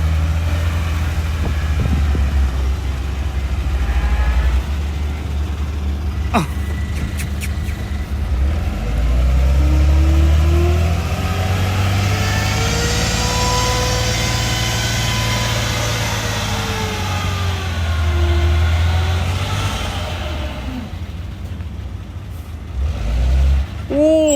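A stock Isuzu FVZ300 dump truck with its original exhaust revs in a long, loud drone that swells and eases across the stretch. Voices talk over the engine.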